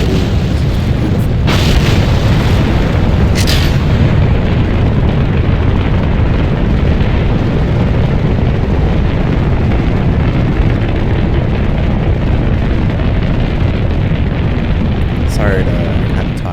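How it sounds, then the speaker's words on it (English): Atlas Mercury-style rocket igniting and lifting off in Kerbal Space Program, a loud sustained roar of booming rumble that stays constant throughout, with someone talking over it. "Sorry to kind of talk over the ignition and liftoff there."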